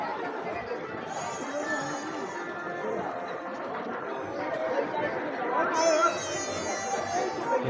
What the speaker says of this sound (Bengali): এরকম পরিমাণে ভিড়টা দেখো